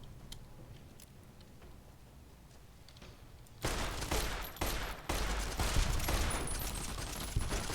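Rapid machine-gun bursts from the video game Fallout: New Vegas open faintly, then turn loud and sustained partway through and keep rattling nearly continuously to the end.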